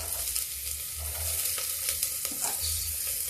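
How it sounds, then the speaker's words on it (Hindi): Chopped onion fries in hot oil in a pan over low gas, a continuous close sizzle and crackle with faint stirring scrapes at an even level throughout, with no voices. "प्याज थोड़ा भून जाए"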